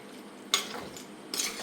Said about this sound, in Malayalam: നല്ലോണം ഇളക്കി കൊടുക്കണേ